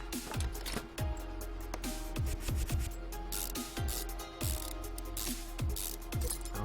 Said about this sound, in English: we've got an end link to do up here. For the bolt.